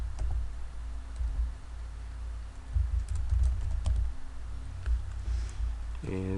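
Typing on a computer keyboard during an Excel spreadsheet lesson: a steady run of close, light key clicks with occasional firmer presses, softly audible over low background noise.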